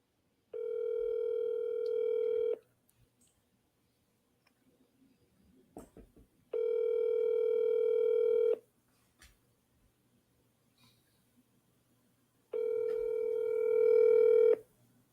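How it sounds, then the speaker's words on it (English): Three evenly spaced ringback tones, each about two seconds long with long gaps between, sound from a telephone while an outgoing call waits to be answered. They are clear and steady, with faint handling noise in the gaps. "let's call Jeff."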